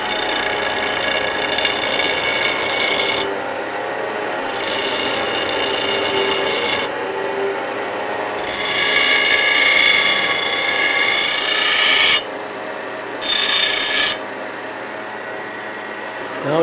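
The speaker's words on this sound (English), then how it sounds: "I have to take and round these edges here before I start" Rasping strokes file the edges of a handmade knife blank, bursts of harsh scraping separated by brief pauses, close and loud, with the rhythm shortening toward the end.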